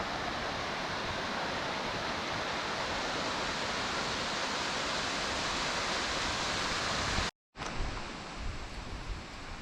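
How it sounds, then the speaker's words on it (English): A waterfall in Shenandoah roars in a dense, steady rush of falling water, loud and close, with a brief dropout near the end before the same noise resumes. "so now we come to another waterfall right here."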